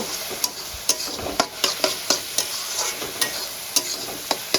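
Onions fry in a pan for doi chicken with a steady, dense sizzle, punctuated by frequent clicks and scrapes of stirring close by.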